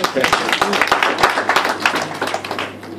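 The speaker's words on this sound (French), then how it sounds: "On applaudit." Dense applause from a gathered group in Dakar greeting a visiting caravan from Tambacounda, sharp, fairly close hand claps in a busy, uneven patter, with voices faintly under it.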